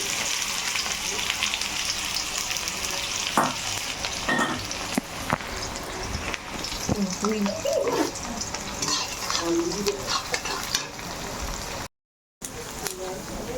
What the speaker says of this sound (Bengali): ফোড়নটা হয়ে গেছে, এবার পেঁয়াজ কুচি দিয়ে দিলাম।